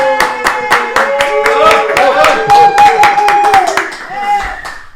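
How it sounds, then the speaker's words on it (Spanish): A podcast production crew in the studio claps in quick, sharp bursts for a guest, with voices whooping and cheering loudly over the applause throughout. "¡Aplauso, producción!"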